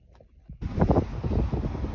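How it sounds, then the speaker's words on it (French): Strong wind on a gravel mountain pass during the Atlas Mountain Race, a close, loud, steady roar buffeting the microphone after a brief quieter moment. "Il y a un vent de ouf."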